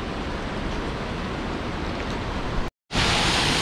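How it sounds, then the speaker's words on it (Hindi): Loud, steady rushing water roars close by from a waterfall pouring down a mountain near Joshimath, a dense broadband wash that cuts out abruptly for a moment before resuming. "देखो झरना, और ये पानी ऊपर से नीचे की ओर जा रहा है"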